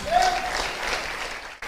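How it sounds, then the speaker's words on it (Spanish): Church congregation applauding during a Spanish-language leadership class service, a dense wash of clapping that holds steady through most of the moment before cutting off abruptly near the end, with a brief voice faintly mixed in. "Dele ese aplauso al Señor."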